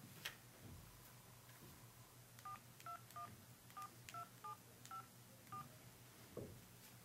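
Telephone keypad dialing tones from a real phone: a quick series of short, evenly spaced DTMF beeps, quiet against a steady background hiss, with no talking.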